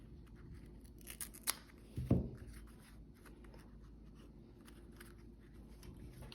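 Scissors snip excess pieces off a stiff woven coconut leaf box, a few short, close cuts with a crisp louder snip near the middle against a quiet background.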